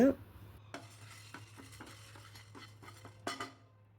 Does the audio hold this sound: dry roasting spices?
yes